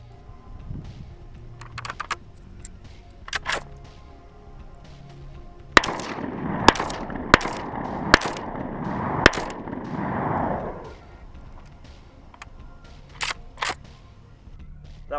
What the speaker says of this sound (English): That was 5 rounds of double op buck out of a Saiga 12 gauge shotgun.